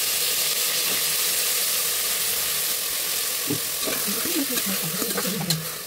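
Green chillies fry in oil with potatoes and onions for a village-style sprouts and egg curry, a constant close hiss that gives way midway to clattering spoon-against-pan stirring over the sizzle.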